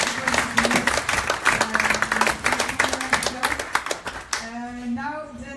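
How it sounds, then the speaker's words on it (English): Audience clapping at a Brussels business event, a moderate round of hand claps with a voice talking over part of it, then the clapping fades as speech continues alone at the end. "may I ask a big hand of applause for you"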